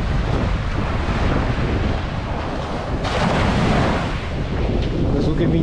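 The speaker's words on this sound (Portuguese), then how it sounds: "de vez em quando vem uma ondazinha mais acima" Small waves wash up on a beach between Comporta and Tróia, a continuous broad surf rush blended with heavy wind buffeting on the microphone, with no clear breaks between swells.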